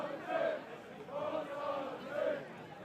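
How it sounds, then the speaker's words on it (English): A home football crowd at a FENIX Trophy match between HFC Falke and CD Cuenca-Mestallistes cheers in rising and falling surges, a steady distant roar with a few louder swells and chants across the stands. "they are still ferociously cheering their side on"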